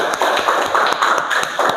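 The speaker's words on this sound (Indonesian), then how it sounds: "Tepuk tangan untuk kelompok 2 ya." Classroom of students clapping for a group presentation. Bursts of hand claps sound close and fairly loud, in a quick, uneven rhythm with brief dips between them.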